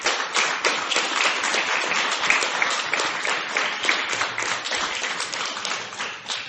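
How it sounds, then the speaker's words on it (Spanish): A church congregation applauding, dense sustained clapping from many hands filling the room at steady loudness for several seconds, with no voices standing out. "Denle un aplauso al Rey."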